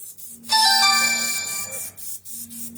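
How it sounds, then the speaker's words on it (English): A phone ringtone from an incoming call sounds in a room where oil paints are being airbrushed: a bright electronic melody of sustained tones rises loudly, then fades over about two seconds, followed by a low hum. "Somebody calling me on the damn phone."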